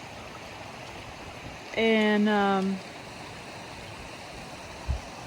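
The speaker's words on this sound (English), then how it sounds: "We got the river flowing" A mountain river in the Beartooth Wilderness flows steadily at a campsite, a continuous broadband rush throughout, with a brief voice speaking over it near the middle.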